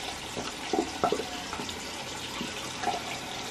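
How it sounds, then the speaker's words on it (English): Warm water runs from a tap onto a washcloth at a bathroom sink, a soft steady trickle with a few brief splashes and gurgles, heard close and alone without any talking. "with the washcloth that they sent, I'm just getting nice and warm water on here"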